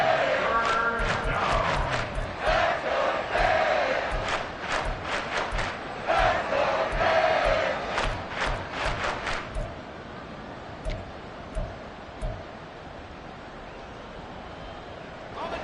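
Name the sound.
football stadium crowd making racket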